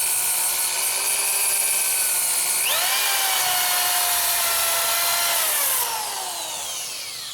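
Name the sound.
wood turning on a lathe, lightly touching the workpiece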